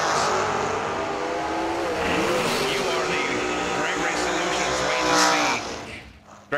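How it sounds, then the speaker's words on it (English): Drag race motorcycle at the Cedar Falls 350, a loud roaring engine revving hard and sustained, rising slightly before fading out, with an announcer talking over it. "that is a motorcycle in no box"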